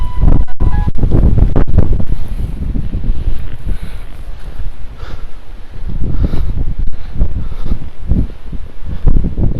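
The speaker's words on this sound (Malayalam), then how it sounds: "ഭയങ്കര കാറ്റ്, കോട ഇങ്ങനെ പറന്ന് സ്പീഡിൽ പറന്നു പോവാം." Strong wind on Kudajadri hill roars continuously across the microphone, driving mist past in loud, buffeting gusts with heavy low rumble and no pauses.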